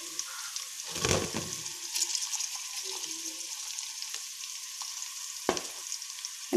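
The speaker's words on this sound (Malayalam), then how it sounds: "നമുക്ക് ഇനിയും നമ്മുടെ ക്യാബേജ് അരിഞ്ഞ് വെച്ചേക്കണ ഇടാം." Chopped cabbage for a Sadya-style thoran drops into a hot pan and fries, a burst of crackling followed by a steady low sizzle and one sharp spoon tap near the end.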